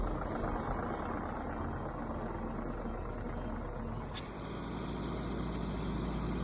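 Yanmar VIO55 excavator engine running at raised throttle, a steady, dense, loud rumble and drone held throughout with a slight dip near the end, heard close and with no talk.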